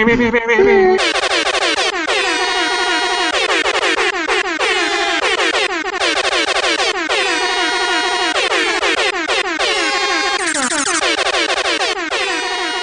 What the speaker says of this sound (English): Just get the air horn app out